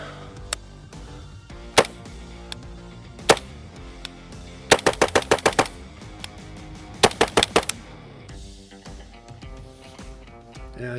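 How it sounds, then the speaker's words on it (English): Loud gunshots from a rifle fitted with a forward-blast muzzle device, fired outdoors: scattered single shots, then two rapid strings of about six and four shots, each a sharp crack, no talking. "you can shoot. And it's obviously loud. It's as loud as any muzzle device is going to be."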